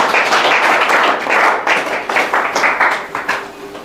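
Applause from a village school gathering honouring a girl student in Churu district, Rajasthan, steady and dense crowd clapping that holds loud for nearly four seconds before thinning into scattered claps at the end.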